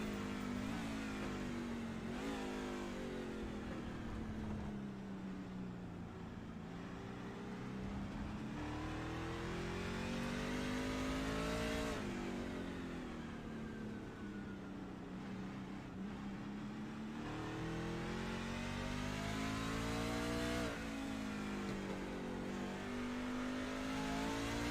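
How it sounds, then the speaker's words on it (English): A race truck engine in a racing video game roars continuously at high revs, pitch rising and falling as the throttle works, loud and close with no voices. "just let you listen to the engine roar."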